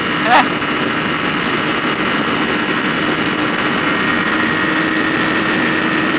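Kawasaki Ninja 250 motorcycle engine held at part throttle while riding, a steady, close, continuous drone with heavy wind rush over it throughout.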